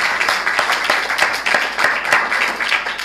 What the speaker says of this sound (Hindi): इन बेटियों के लिए हम ज़ोरदार तालियां बजाएं